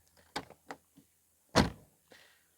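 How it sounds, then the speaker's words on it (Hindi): Door of a restored 1999 Suzuki Khyber car worked up close: a few light clicks and latch knocks, then one loud solid thunk as it shuts, followed by a softer rattle, with no talking. "तो आप अगर इसका दरवाजे की आवाज़ सुने और दरवाजे का देखें किस तरह से चल रहा है।"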